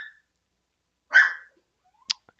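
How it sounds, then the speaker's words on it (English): Dogs indoors sound off in the background, with one short bark and then a brief, high yip a moment later, separated by silence. "I got some dogs who are very vocal in the background"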